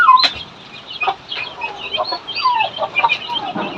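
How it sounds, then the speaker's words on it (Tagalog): Newly hatched turkey chicks chirp in high, repeated peeps with overlapping calls, fairly close and clear, no talking over them. "Ayan, sisiw mo."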